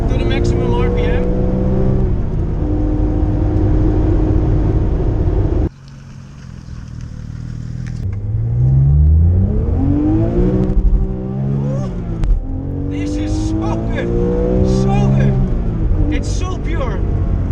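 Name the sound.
Porsche GT3 RS engine revving while accelerating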